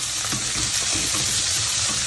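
Peanuts fry in a pan for a vegetable poha breakfast, a loud, continuous hiss of hot oil with light rhythmic stirring underneath, close and with no talking.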